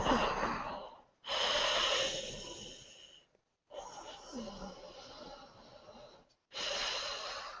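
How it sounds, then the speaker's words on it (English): Ujjayi breathing, the throaty Darth Vader–like breath used in yoga, comes close to the microphone as four long, hissing breaths, each separated by brief silence. "Let's practice some ujjayi breathing."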